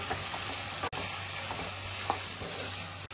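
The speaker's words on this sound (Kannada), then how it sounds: "ಗ್ರೀನ್ ಚಿಲ್ಲಿ ಸಾಸ್ ಹಾಕಿ ಮಿಕ್ಸ್ ಮಾಡ್ಕೊಳ್ಳಿ" Soya chilli sizzles steadily in a pan while being stirred after green chilli sauce is added, with a couple of sharp scraping knocks from the utensil against the pan.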